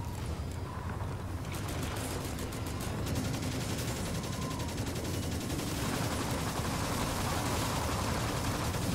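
Rapid automatic gunfire rattles in the online shooter Firefall as shards are shot at, coming in sustained fast bursts over a dense background of game noise.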